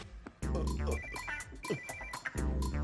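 A phone ringtone plays loudly in a repeating melodic pattern, with a voice speaking over part of it.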